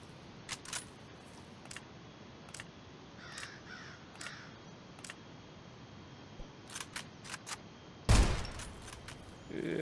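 Gunfire in the Zero Sievert video game fires at a sniper as a series of sharp, scattered shots, some spaced apart and some in quick clusters, ending in a louder, closer blast with no talking.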